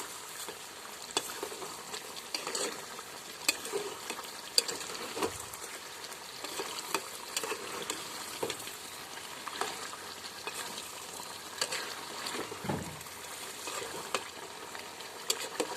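Chicken liver with bay leaves fries in a pan, a steady soft sizzle broken by regular scraping and tapping as a spoon stirs, close by with no talking.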